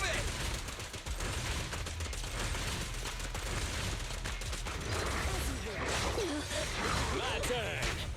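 Gunfire in the action game Zenless Zone Zero, rapid shots mixed with whooshes and impact crashes under game character voice lines, steady and dense throughout.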